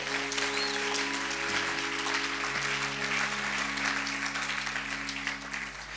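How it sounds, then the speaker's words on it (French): A church congregation applauds steadily and continuously, a dense, even wash of clapping from many hands filling the room with no break. "Acclame pour le Seigneur."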